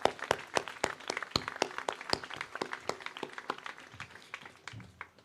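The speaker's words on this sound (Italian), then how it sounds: "I'd like to ask for another round of applause for the great renditions of the two national anthems." Audience applause at an embassy Independence Day celebration after the national anthems: a room of people clapping in sharp, fairly regular claps that thin out toward the end, moderately distant.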